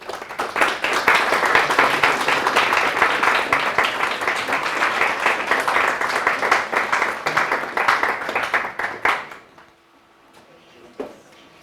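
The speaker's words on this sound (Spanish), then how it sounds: "Acaban de despertar ahorita con los aplausos" Audience applause at the end of a lecture, a sustained burst of many hands clapping close and loud for about nine seconds before cutting off abruptly into near-silence with a faint voice.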